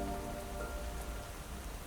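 Steady rain falls on surfaces, a soft, even hiss with scattered drops, continuous and fairly faint throughout with no voices.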